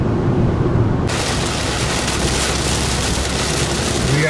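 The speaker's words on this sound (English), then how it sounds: "Oh, it's raining." Steady rain pours in a dense, loud, continuous hiss that suddenly grows fuller and brighter about a second in, suggesting a heavier downpour or moving closer to it, with no talk.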